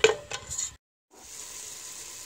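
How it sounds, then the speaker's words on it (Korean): Beef stir-frying in a pan for Korean seaweed soup: brief scraping and stirring at the start, then a break into silence and a steady, moderate sizzle of frying meat. "익을 동안 볶아줍니다."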